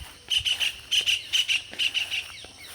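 A parrot flying overhead gives a rapid series of shrill, high chirping calls in quick bursts, about a dozen sharp notes, loud and close.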